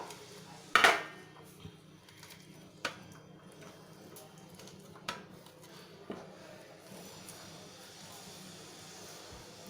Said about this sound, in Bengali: এভাবে ভালোভাবে প্রত্যেক কটা চিংড়ি ভালোভাবে থেতো করে নিচ্ছি